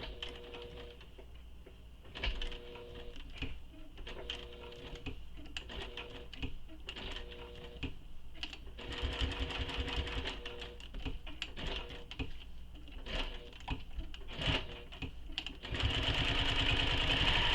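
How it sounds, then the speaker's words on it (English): A sewing machine runs in long steady bursts stitching around the outer edge of a handmade travel bag, its rapid needle chatter close and continuous with brief pauses between runs. "Stitch all the way around."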